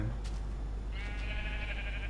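A single wavering bleat from a Minecraft sheep rises after about a second and holds to the end, fairly soft over a steady low background hum.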